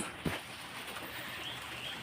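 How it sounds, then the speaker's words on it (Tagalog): A single short bird call near the start, then a steady hissing outdoor background with no further calls. "Oh, ang ibon."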